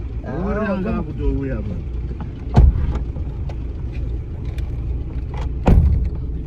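A car engine rumbles low and steady as people set off by car, with a voice briefly talking at the start and two dull thuds, like doors shutting, partway through.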